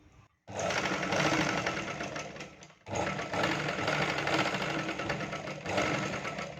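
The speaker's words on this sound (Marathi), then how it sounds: "शिलाई मारून घ्यायचं असं." A sewing machine stitches a half-cup blouse with a loud, fast, even whirr heard close. It starts after a brief quiet, runs about two seconds, pauses for a moment, then runs on steadily.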